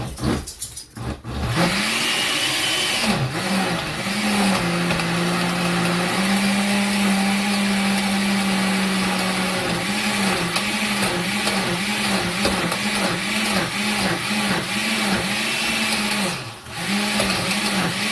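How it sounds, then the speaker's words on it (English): A kitchen blender runs loud and close while making homemade Mexican red chili pork pozole, its motor whine steadying, then pulsing in a rapid, regular wobble for many seconds. "Try to break the blender."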